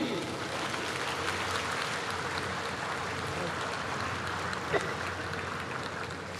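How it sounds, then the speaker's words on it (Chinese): A crowd at a National Day ceremony claps steadily after a rifle drill display, a sustained wash of applause heard from a distance and holding at an even level throughout. "请掌声鼓励"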